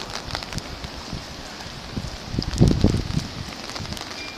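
Rain in a severe thunderstorm with strong wind, a steady wet hiss and gusty rumble that swells to a louder burst midway before easing, with no voices.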